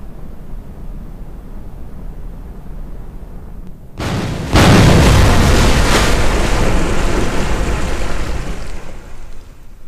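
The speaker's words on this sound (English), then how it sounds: "let's watch the explosion" A rocket explodes in Kerbal Space Program after a few seconds of quiet, a sudden loud blast that swells into a long roaring, rumbling wash of noise and slowly fades.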